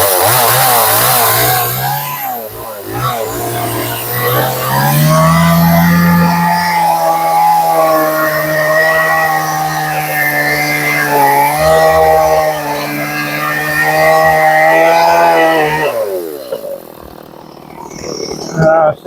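A sawmill cuts bowl blanks from a cracked Bradford pear log, a steady motor drone rising and holding under load for about fifteen seconds before winding down, loud and close throughout.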